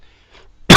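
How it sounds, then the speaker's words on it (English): A single short, sharp throat clearing erupts abruptly after near silence. "clear my throat"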